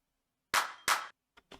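Two sharp, bright clap samples in quick succession from a percussion loop in an electronic dance track, followed by two fainter short hits, all isolated against silence.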